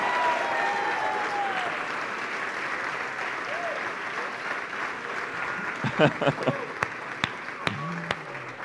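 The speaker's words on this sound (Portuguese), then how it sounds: "levante um aplauso poderoso aí, meu irmão, minha irmã" Congregation at an evening church service applauding, a broad wash of clapping and crowd noise that thins into scattered sharp claps near the end, with a faint voice underneath.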